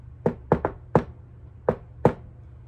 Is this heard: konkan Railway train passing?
no